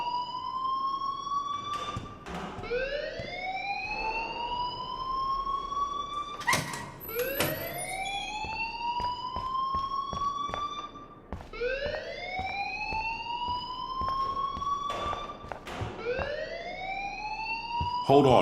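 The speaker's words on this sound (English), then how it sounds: "please turn off that alarm since that's your job" A rising, wailing electronic alarm sweeps upward again and again in the video game Life is Strange, steady and insistent. Muffled voices sit underneath it.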